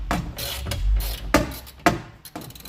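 A long-reach ratchet turns a 10 mm bolt on the front window regulator of a 2017 VW Transporter Mk6, giving a few close, sharp clicking bursts between quieter stretches of handling noise.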